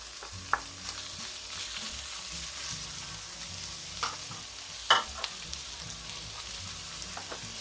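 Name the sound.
grilled fish sisig frying and being stirred in pan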